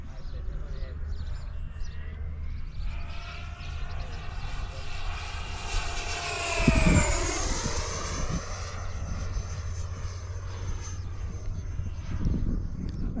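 An E-Flite 90mm Viper RC jet at full throttle gives a steady, loud ducted-fan whine that sweeps in pitch as it passes overhead, with a Doppler-like rise and fall midway and talk over it.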